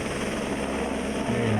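A helicopter flies over a hard enduro motorcycle race in the mountains. Its rotor gives a steady, fairly faint low chopping drone, while a commentator talks over it.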